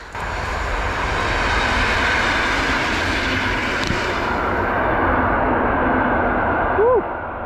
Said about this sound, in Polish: pociąg w tle